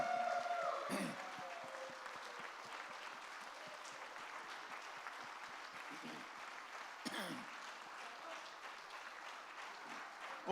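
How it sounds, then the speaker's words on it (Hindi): An audience at a talk by author Chetan Bhagat keeps up a continuous, moderately faint round of clapping, with a couple of brief louder bumps. "जोरदार तालियां एक बार"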